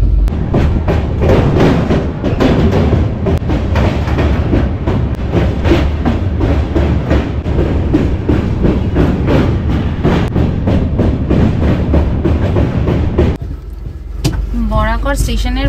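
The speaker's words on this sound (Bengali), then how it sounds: "ট্রেন আমাদের বরাকর স্টেশন ছেড়ে দিল।" Shaktipunj Express on the Kolkata–Jabalpur run rolls steadily over the rails after leaving Barakar station, a loud, continuous rumble with rhythmic clatter and thumps, ending in a brief quieter stretch with a tonal whine.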